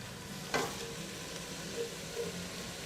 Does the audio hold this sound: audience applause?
no